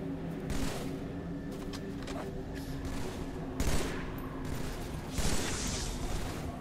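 Scattered gunfire and distant explosions from a Halo 3 battle on the Ark level, irregular bursts and thuds over a steady rumbling ambience, a couple of sharper louder blasts midway and near the end.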